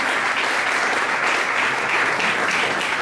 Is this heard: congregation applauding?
yes